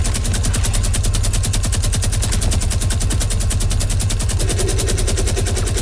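Minigun fire in Fortnite Battle Royale's Playground mode rattles continuously in a rapid, steady stream of loud shots from start to finish, with no talking.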